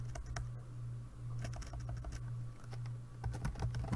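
Keys tapped on a computer keyboard to delete text in a configuration file, a steady run of close, quiet clicks and presses over a low background hum, with no talking.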